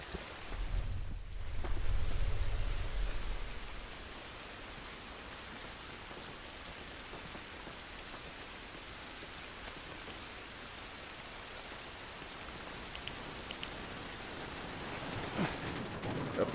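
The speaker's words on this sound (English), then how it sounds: "This rain ain't gonna do us any good." Steady rain falls in the video game The Last of Us Part 1: a dense, even hiss of drops that holds for the whole stretch, with a heavier low rumble near the start and no voices.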